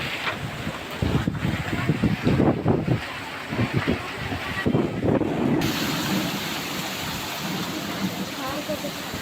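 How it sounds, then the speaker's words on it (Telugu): Heavy unseasonal rain with strong gusty winds in Narayanpet district: a dense roar of rain and buffeting wind noise with voices talking at points, easing to a steadier wash of rain in the second half. "నారాయణపేట జిల్లాలో ఈదురుగాలులు ఉరుములు మెరుపులతో కూడిన భారీ వర్షం కురుస్తోంది"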